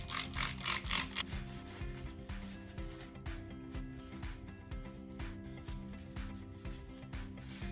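Rag or cloth rubbed over a grease gun with degreaser, giving steady close rubbing and scuffing strokes, with a burst of faster wiping at the start and no speech.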